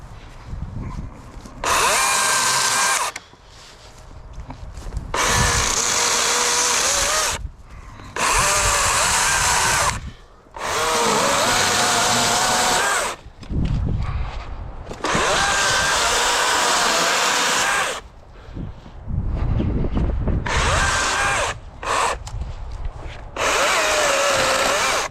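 A DeWalt 60-volt battery electric chainsaw cuts through wood in repeated loud bursts, the motor whining up under load for several seconds, then dropping away in short pauses between cuts, with no talking.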